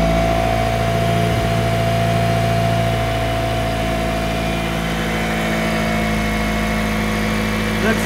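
A Mitsubishi Evo IX with an upgraded turbo idles cold on E85 fuel, a steady close engine drone with even vibration throughout and no voices.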